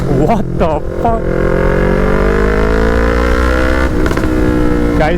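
Yamaha R3 motorcycle with a full-system exhaust, its engine droning loud and close with harmonic rumble and a few sharp crackling backfire bursts near the start and around the four-second mark.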